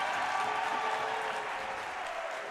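A men's college basketball crowd in the Don Riddler Fieldhouse, LTU against Indiana Tech, fills the room with loud, continuous clapping and cheering that fades slightly toward the end.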